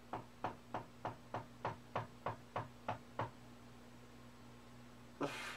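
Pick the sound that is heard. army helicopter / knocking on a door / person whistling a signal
knocking on a door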